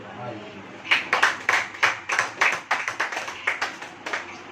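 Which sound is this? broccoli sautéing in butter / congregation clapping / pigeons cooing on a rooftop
congregation clapping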